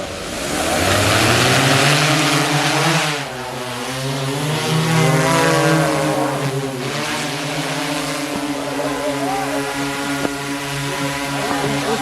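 An agricultural spraying drone flies over a sugarcane field, its loud, steady multi-rotor whine rising and shifting in pitch as it passes close, then holding a constant droning hum throughout, no talk.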